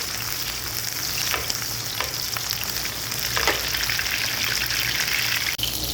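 Frozen seekh kababs fry with onions in hot oil, a dense crackling sizzle with spatula stirring and scraping throughout, close and steady, with no talking.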